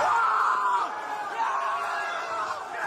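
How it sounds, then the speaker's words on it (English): Spectators at a boxing match yell and cheer in a steady, dense roar that dips slightly midway, crowd voices blending into a continuous din. "And you hear his homie like cheering,"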